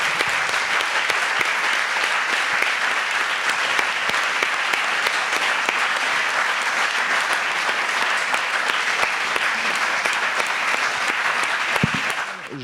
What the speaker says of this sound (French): Bah oui, on peut applaudir, bien sûr.